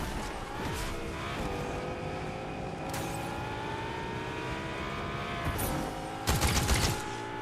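A Cybertruck drives in a video game with a steady engine drone. Sharp crackling bursts of gunfire sound in short clusters, and the busiest volley comes near the end.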